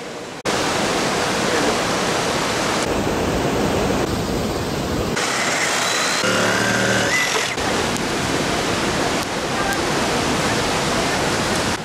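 A river rushing beside an off-grid micro hydro system, a loud, steady broadband roar of flowing water that fills the whole stretch with little change in level.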